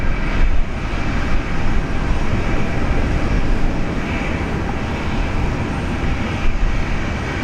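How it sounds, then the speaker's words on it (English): A Jetstar airliner taking off from Brisbane Airport, heard as a loud, broad continuous jet roar that holds steady throughout with slight swells. "A Jetstar taking off."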